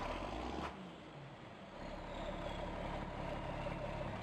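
A John Deere 4440 tractor engine idles in Farming Simulator 19, a steady low rumble with a brief dip in level early on, then a continuous even drone with no talk.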